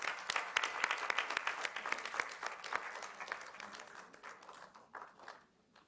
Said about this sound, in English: Please put a round of applause for Varsha Umapati.